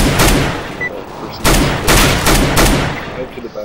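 Gunfire in the video game Counter-Strike: Global Offensive during a competitive match, several loud sharp shots in quick bursts with gaps between, while players talk over it.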